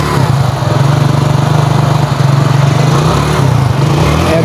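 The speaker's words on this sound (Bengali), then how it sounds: "আপনারা আমাদের বাইকের সাউন্ড কন্ডিশনটা শুনতে পেরেছেন।" A 100cc motorcycle engine runs steadily close by, a loud, even, throbbing putter at a constant idle-like pace, with no speech over it.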